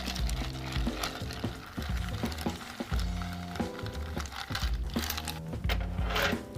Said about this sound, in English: We're going to add ice. We're going to give it a stir.